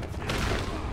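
Gunshot from a gunman in Batman: Arkham Asylum, a brief loud blast with a booming, noisy burst about a quarter of a second in, then ringing off.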